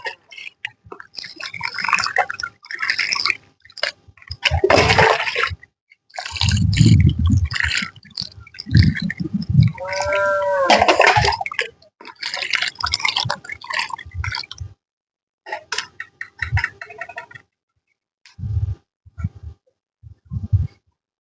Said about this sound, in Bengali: এবার দেখুন এবার এইভাবে জল দিয়ে দেবেন